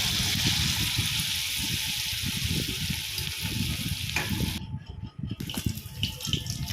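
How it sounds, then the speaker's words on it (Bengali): Slices of ash gourd (chal kumro) dipped in batter and fried in hot oil over a medium gas flame, a steady loud sizzle with bubbling crackles, briefly quieting near the end before resuming. "এবার গরম তেলে প্রত্যেকটা চাল কুমড়ো ব্যাটারে ডুবিয়ে ভাজতে হবে।"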